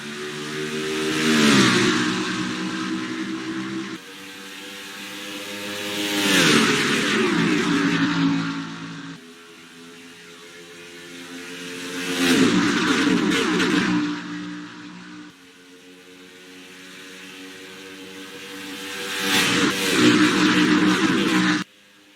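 Race cars in a racing video game accelerate from the green flag at the Brickyard, Indianapolis, with engine notes rising in four successive revving sweeps, each climbing in pitch before dropping as gears shift, loud and close.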